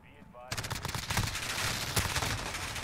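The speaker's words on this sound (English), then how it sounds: "the MP7, it's a good gun" Rapid bursts of MP7 submachine gun fire in a first-person shooter game, loud and dense, starting abruptly after a brief quieter moment and continuing with sharp shots throughout.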